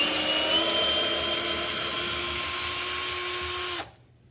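A 21V cordless drill/driver set to hammer drill mode runs continuously at a steady high-pitched whine for nearly four seconds, then stops abruptly and leaves quiet.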